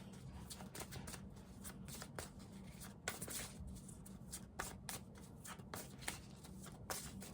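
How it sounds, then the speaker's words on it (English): Playing cards are shuffled close up in a steady, rapid riffle of papery flicks and taps, fairly quiet and continuous. "first I'm going to shuffle to get a theme"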